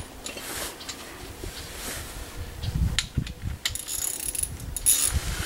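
A ratchet tightening bolts while a wheel bearing is pressed in on a 2009 Chevy Cobalt, making repeated mechanical clicking and grinding strokes that grow louder and busier toward the end.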